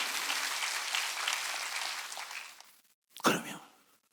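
Church congregation clapping during a Sunday worship service, a dense sustained burst of applause that fades out, then a brief short clap or rustle after a pause.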